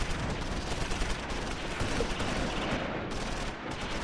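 Dense, continuous battle gunfire from the Close Combat IV wartime strategy game, a steady wash of distant rifle and machine-gun shots with no pauses, heard alone without talk.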